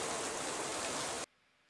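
Steady heavy rain pours in a crime drama set in 1950s Los Angeles, a dense wash of noise that cuts off abruptly after a second or so, leaving near silence.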